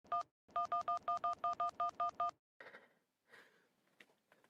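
A string of about ten short, evenly spaced telephone keypad dialing tones beeps quickly and clearly, followed by faint breathy rustling and soft noises, with no talk.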